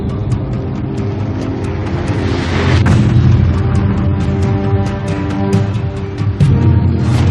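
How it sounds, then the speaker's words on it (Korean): Deep underwater nuclear weapon explosion rendered as a sustained low rumbling boom, loud and dense throughout, swelling near the middle with crackling bursts on top and no voices. "인류가 사라지고 25년이 지나자 바다 밑에서 핵무기가 폭발한다."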